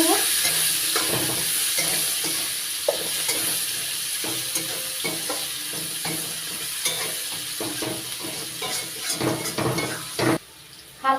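Chopped onion frying in a pan, a steady bright sizzle with rhythmic scraping stirs throughout, close and continuous, briefly cutting out near the end.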